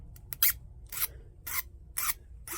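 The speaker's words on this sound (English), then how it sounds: "before I make the first cut, I'm going to use a flat file and round" Flat file rasping across the end of a wire rod, rounding it off: five distinct strokes in a steady back-and-forth rhythm, close and fairly quiet, with no talking.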